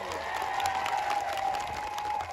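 Audience at a political gathering applauds for Anandbhai Patel, a brief burst of dense clapping from a crowd, steady and fairly near, with no speech over it.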